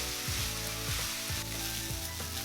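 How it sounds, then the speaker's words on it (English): Beef and rice being stir fried together in oil for Japanese curry fried rice, a steady close sizzle throughout with repeated scraping strokes of a utensil against the pan. "add the rice and stir fry everything together until the rice is evenly coated with oil"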